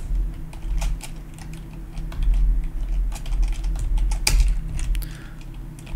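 Steady typing on a computer keyboard while writing a useEffect hook for hls.js streaming in a Next.js app, rapid clustered keystrokes close up with a few louder key hits.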